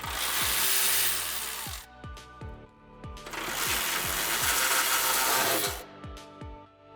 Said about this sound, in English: Using the same 16mm socket, remove these 2 M12 bolts holding up your power pack skid plate.